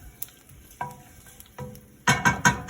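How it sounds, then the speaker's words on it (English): Tomato paste is stirred into a pan where garlic has been sautéing over medium heat, with a few soft scraping stirs and then a louder run of rhythmic scrapes and sizzle near the end, close up and with no talking. "stir in the tomato paste, 2 tablespoons"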